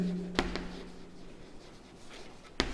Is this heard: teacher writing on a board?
yes